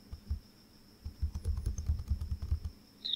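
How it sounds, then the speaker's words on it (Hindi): Keys on a Dell laptop keyboard pressed in quick runs, dry close clicks clustered in short bursts after a brief pause, alone with no talk and a faint steady tone in the background. "FN को प्रेस करके साथ ही प्रिंट स्क्रीन को प्रेस करना है।"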